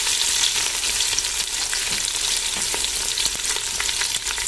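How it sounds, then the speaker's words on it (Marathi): Sliced onions fry in hot oil with cinnamon for a chicken dum biryani, a loud, dense, unbroken sizzle with a few faint stirring taps, close up and with no voices. "आपल्याला छान असं हे तेलामध्ये भाजून घ्यायचं आहे"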